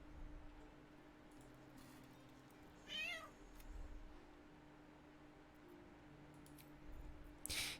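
A cat meows in the Baldur's Gate 3 video game, one short rising call near the middle over a steady low game hum, alone with no talk.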